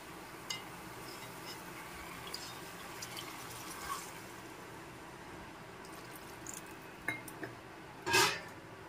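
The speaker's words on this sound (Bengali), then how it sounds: "এখন জল দিয়ে দিচ্ছি" Water is poured from a bowl into a mustard paste curry with potatoes in a pan, a faint, quiet trickle with small drips and a sharper splash near the end, and no voices.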